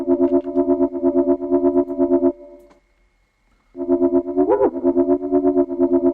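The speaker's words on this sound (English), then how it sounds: "Let's start with this FM bass." Synthesized FM bass from a remake of a track: loud, buzzy, distorted rhythmic pulses that cut to near silence, then return with a pitch-bent swoop.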